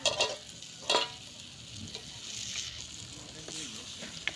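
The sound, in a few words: stirring taro curry with tomato, potato and fish head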